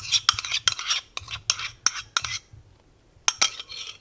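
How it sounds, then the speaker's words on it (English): Yeast liquid being stirred into a bowl of flour, sugar and salt, giving a run of sharp, irregular scraping and clinking strokes up close, pausing briefly near the end before a final burst of stirring. "go ahead and mix everything together with the flour and my sugar and my salt"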